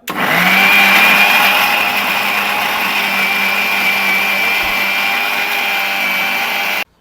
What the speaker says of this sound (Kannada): ಈಗ ಈರುಳ್ಳಿ ಮತ್ತು ಶುಂಠಿ ರುಬ್ಕೊಂಡಿದ್ದಾಯ್ತು